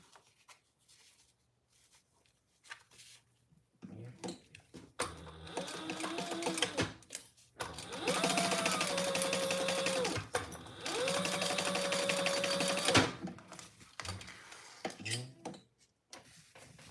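A sewing machine stitching a trifold wallet, running in two sustained whirring bursts with a rising mechanical hum, separated by a short stop and bracketed by quieter handling noises.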